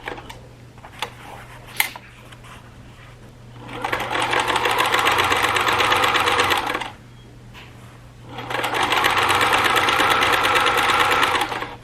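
A sewing machine stitches the hem of a fabric bag for a wheelchair or walker, running in two steady, loud bursts of about three seconds each, separated by a brief pause, after a few light clicks at the start.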